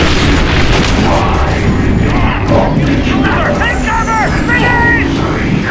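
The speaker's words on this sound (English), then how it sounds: "Artillery!" Artillery explosions boom over a battlefield in The Bureau: XCOM Declassified, a dense continuous roar of blasts with crowd-like shouting mixed in throughout.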